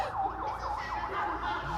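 A theremin swoops up and down in a regular wailing pattern, imitating a police siren, several quick cycles close and clear over a low steady hum.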